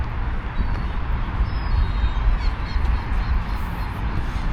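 Crows cawing in a run-down Istanbul park beside a highway where people toss raw meat for the birds; faint, thin calls sit behind a steady low roar of traffic.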